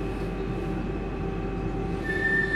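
A Lausanne M2 metro train runs on its rails at a steady, continuous rumble, with a faint high squeal from the wheels rising near the end and no voices.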